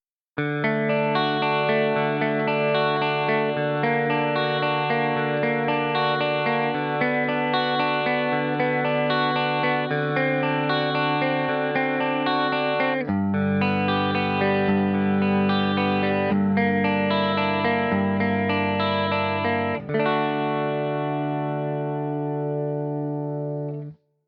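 Sustained electric guitar chords in D with chorus and distortion move the fifth through an augmented fifth to a sixth in a rising chromatic progression, ringing loudly with no voices.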